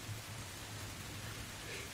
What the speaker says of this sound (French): Une nuit obscure où la pluie tombe à grande corde sur le toit de la grande maison